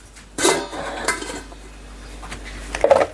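A pot being covered with its lid while tangy raw mango pickle masala is prepared at home: a sharp metallic clank near the start, a lighter tap, then another rattling knock of the lid settling at the end, with no talk.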